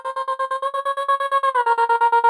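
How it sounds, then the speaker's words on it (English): A sung vocal note chopped by a MIDI-triggered trance gate turns into a rapid, even stutter of about twenty quick pulses, with the held pitch stepping slightly near the end. "the vocal is now going to sound like this"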